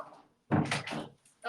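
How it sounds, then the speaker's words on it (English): An indoor room door is pushed shut with a short muffled thunk and rattle, followed by a brief softer knock, and no voices over it. "Sorry guys, let me close my door."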